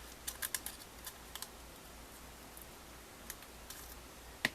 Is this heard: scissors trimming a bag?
yes